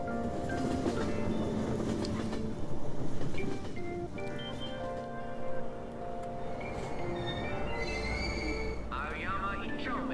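A commuter train in Persona 5 rolls along and slows into a station with steady rumbling, wheel squeals and tonal hums, while a voice speaks and a chime sounds near the end.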